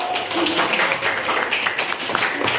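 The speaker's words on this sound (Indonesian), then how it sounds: "Tepuk tangan dulu." Classroom applause from students welcoming a group to present, a dense, steady patter of many hands clapping at once, continuous and fairly loud throughout.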